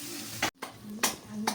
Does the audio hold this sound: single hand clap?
no